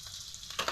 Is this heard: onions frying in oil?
yes